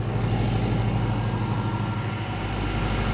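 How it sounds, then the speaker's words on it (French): A diesel-type engine adapted to run on lean biogas drives a generator, giving a steady, low, throbbing hum that stays close and constant with no voices. "C'est un moteur type diesel, mais qui a été adapté spécialement pour le biogaz"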